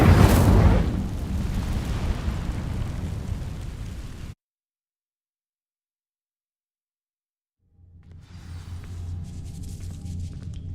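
A fire spell in Hogwarts Legacy sets dry vines ablaze: a loud roaring, crackling whoosh of flame for about four seconds, then abrupt silence, then a lower rumbling burn with ambient game noise.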